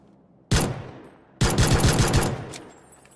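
Gunfire in the battle-royale video game PUBG: a sharp single burst breaks the quiet, then a longer rapid automatic volley follows, loud and close, with no voices.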